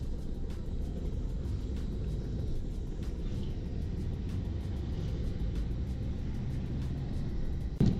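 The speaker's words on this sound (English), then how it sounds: "the big trucks, the big rigs are coming up through here" Big rigs climbing a mountain road in the Colombian Andes, a steady low engine rumble that holds at moderate level for the whole stretch, with no voices.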